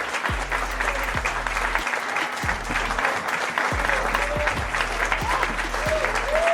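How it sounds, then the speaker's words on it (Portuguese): Electronic applause sound effect: a steady wash of crowd clapping with cheering, dense and continuous for the whole stretch at moderate loudness, with no one speaking. "ficam-se com palmas eletrônicas"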